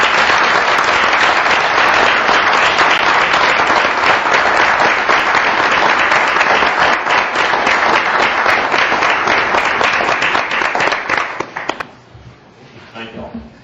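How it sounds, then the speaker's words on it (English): Loud, sustained applause fills a council meeting room for about eleven seconds, dense clapping from a crowd that then fades quickly into quiet room noise. "Would you give these folks a big round of applause?"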